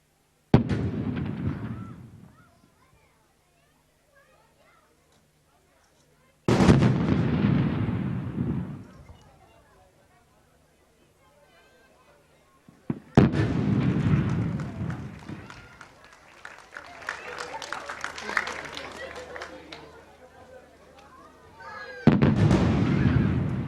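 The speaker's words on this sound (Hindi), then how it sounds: "ख़वातीनो हज़रात, कौमी अलम को अब 21 तोपों की सलामी दी जाएगी।" Artillery guns fire a 21-gun salute at the Pakistan Day military parade in Islamabad, with heavy, booming blasts spaced several seconds apart, each rolling off into a long echo, loud and outdoors.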